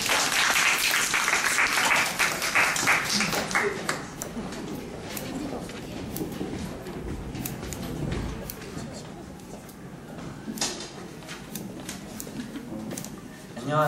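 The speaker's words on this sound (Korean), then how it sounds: "박수 할게요" An audience at a school presentation event claps in a loud burst of applause that tapers into scattered, fainter clapping, with murmuring voices underneath.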